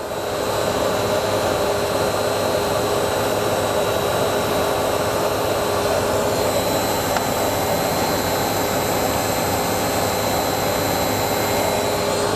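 A running pump heard at its drive-end bearing, a loud steady whirring machine drone with constant tonal hums, unbroken and close throughout.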